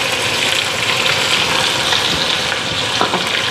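An egg frying in hot oil, a loud, close, crackling sizzle that runs steadily with a few sharper pops near the end, no voices.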